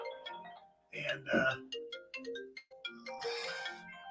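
A phone ringtone from an incoming call plays as a bright, choppy melodic tune during a live radio broadcast, with someone talking over and around it.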